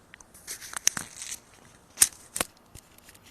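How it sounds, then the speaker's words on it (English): Close rustling, scraping and sharp crackly thumps as a small Ulanzi wireless clip-on microphone is fumbled and fastened onto a shirt, with several louder bumps. "I'm going to clip it back onto my shirt."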